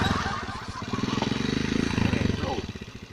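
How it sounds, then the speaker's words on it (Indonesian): A new ongkok-style motorcycle runs close by, its engine thumping in a steady rapid pulse that rises and falls slightly, with voices heard faintly over it. "Motor ongkok anyar."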